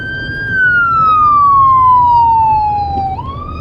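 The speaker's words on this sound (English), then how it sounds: "I thought an ambulance was coming, but oh, maybe it is." A single wailing ambulance siren tone sweeps slowly downward, loud and steady, as the ambulance passes close by over low traffic rumble.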